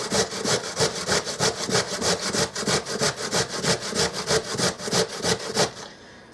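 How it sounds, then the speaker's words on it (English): Potato being grated on a hand grater for cast iron skillet hash browns, a fast even run of rasping back-and-forth scrapes, about five per second, close and loud, ending with a brief pause, no talking. "Just keep grating it."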